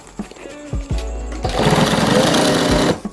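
Sewing machine stitching a homemade travel bag, a few short mechanical thumps followed by a loud, close, steady whirring run of stitching that stops abruptly.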